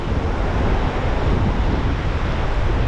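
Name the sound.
sea waves on the shore at Boracay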